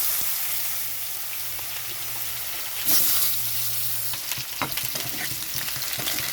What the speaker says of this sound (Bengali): এখানে সর্ষের তেলটা গরম হয়ে আছে তো এখানে জিরে দিয়ে দিচ্ছি গোটা জিরে এখানে দিয়ে দিচ্ছি আলু